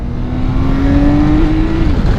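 A 2022 BMW K1600 GT motorcycle engine pulls hard under acceleration through a quick-shifted gear out of a roundabout, a loud, steady rising whine with a smooth tone, heard alone with no talk.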